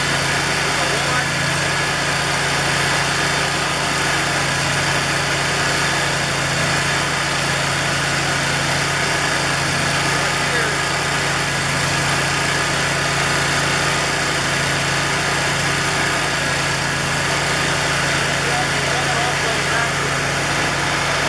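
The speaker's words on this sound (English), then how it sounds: "You can hear what we did there because the engine was running." A General sewer jet engine from Gap Power runs steadily, a continuous droning hum with constant loudness throughout, close and unbroken.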